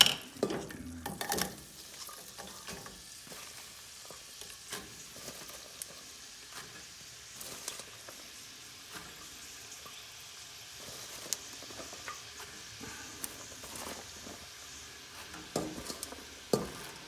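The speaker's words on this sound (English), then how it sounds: "Okay, now the butter's all melted, you can see that. And now we're going to just add" Leeks dropped into melted butter in a pan, a faint steady sizzle with occasional stirring scrapes and clinks, quiet and close with no talk.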